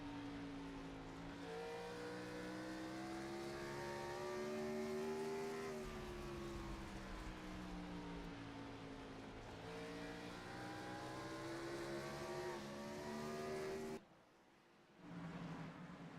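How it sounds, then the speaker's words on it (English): Race car engines roar at Bristol Motor Speedway in the iRacing sim, a loud, steady, high-revving drone with rising and falling pitch as cars run close together, dipping briefly near the end before surging back. "Belleville on the outside, and he makes light work of Jason Alexander"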